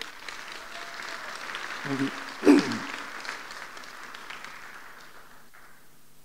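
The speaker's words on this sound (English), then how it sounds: "Big round of applause." An audience at a tech event applauds a panel of speakers, moderate clapping that swells briefly and then tapers off gradually, with a voice speaking over it near the start.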